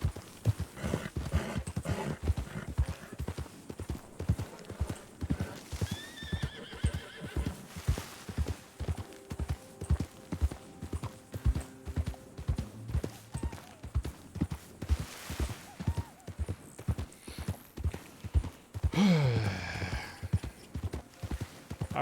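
Horse hooves clip-clop in a steady rapid rhythm in a video game, with a loud whinny near the end; the game horse sounds close and continuous with no talk.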